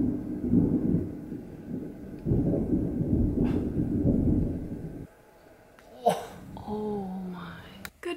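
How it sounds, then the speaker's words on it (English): Low, rumbling thunder rolls for several seconds, then fades; afterward a voice speaks briefly over quieter background noise. "Storm's brewing."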